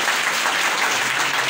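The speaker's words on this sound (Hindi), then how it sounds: "इसके लिए कम से कम एक बार जोरदार तालियां होनी चाहिए" A crowd claps loudly and densely for a short burst at a university-related gathering, sustained, close, and unbroken by voices.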